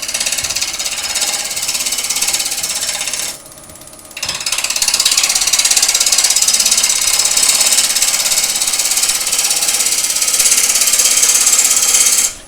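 A loud, continuous scraping rasp of a 3/8-inch bowl gouge cutting wood spinning on a lathe, briefly easing off for a moment before resuming steadily, close up.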